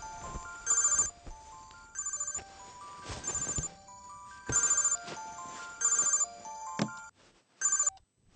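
A telephone rings in a Telugu film scene, repeated electronic ring bursts in a regular pattern with short quiet gaps between them, clear and close.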